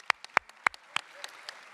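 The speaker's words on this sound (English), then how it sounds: "that's worth a round of applause" A few sharp, spaced claps at a high school commencement, fairly close and distinct at first, then thinning into fainter scattered claps within under two seconds.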